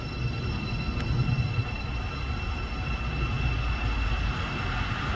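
A Class 700 Thameslink electric unit, 700 053, pulls out of Hitchin on the East Coast Main Line toward Cambridge, a steady low rolling rumble with a faint high whine, moderately distant and without talk.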